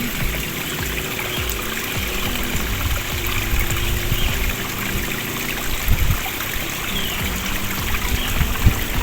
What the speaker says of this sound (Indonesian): langsung kita tuangkan saja ke dalam tangki